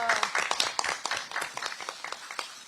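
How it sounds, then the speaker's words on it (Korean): An audience at a political party meeting claps steadily, a dense patter of many hands applauding at close range that holds at an even level throughout without any voices. "다시 한번 더 큰 박수 부탁드리겠습니다."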